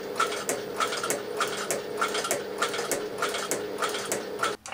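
A leather sewing machine stitches a seam on a leather tool roll with a steady, fast mechanical chatter and regular rhythmic thumps, loud and close, ending abruptly as it stops.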